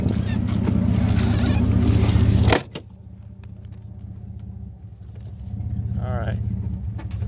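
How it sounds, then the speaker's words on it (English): A pickup truck's engine idles with a deep, loud rumble, then cuts off sharply partway through and gives way to a quieter low hum before the rumble rises again. "Gotta pull the fucking truck up like an inch."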